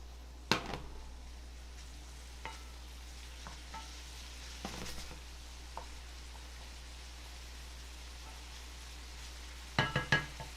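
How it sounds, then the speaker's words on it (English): A bean mixture sautéing in a pan gives off a quiet, steady sizzle, punctuated by a few sharper clinks and stirring scrapes, with a cluster of louder knocks near the end. "you saute all of this together for just another minute or so"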